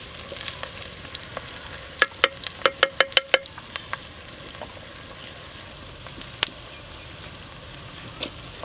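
Curry leaves are dropped into a clay pot of natu kodi chicken cooking over a wood fire, giving a burst of sharp crackling pops and spitting over a soft continuous sizzle, which then eases to scattered snaps.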